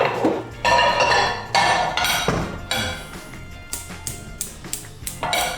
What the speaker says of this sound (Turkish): Ben biraz tava, tencere ne varsa alayım.